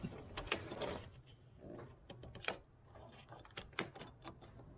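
Fuel pump relays on a 2013 CFMOTO Z6 utility vehicle click and clatter faintly in a quick irregular run of small mechanical ticks, heard close by without talk.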